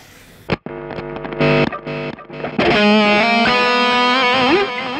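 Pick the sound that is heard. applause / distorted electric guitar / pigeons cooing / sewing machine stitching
distorted electric guitar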